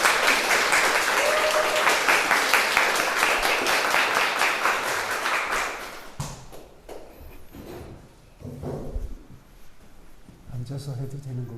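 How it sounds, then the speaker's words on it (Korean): An audience at a book talk breaks into dense, loud applause for about six seconds, then it fades to scattered claps, shuffling and brief voices nearby. "박수로 환영해 주시면 감사하겠습니다."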